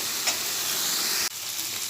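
Spice paste sizzles in a pan during cooking for a potol-prawn curry, a loud continuous frying hiss with a brief dip partway through.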